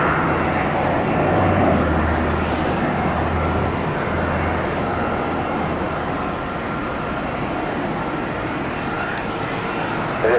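An American Airlines airliner approaching the runway at Tampa gives a broad, steady jet roar, distant yet constant throughout, with no speech over it.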